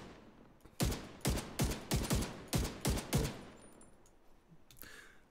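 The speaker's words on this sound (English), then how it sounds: "I fired so many bullets." Video game gunfire: a rapid string of about eight loud, close shots in uneven bursts, followed by quieter ambient game sounds.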